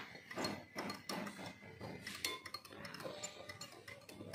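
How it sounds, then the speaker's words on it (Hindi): Oil is whisked in a bowl for eggless muffin batter, giving quick, steady metallic clinks and scrapes of a whisk against the bowl, close and fairly loud, with no talking. "इसको अच्छे से विस्कर से विस्क कर"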